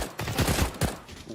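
Automatic rifle fire in Counter-Strike on the Nuke map during a competitive match, a fast run of loud shots emptying most of a magazine, with a brief break partway through before a last burst of rounds.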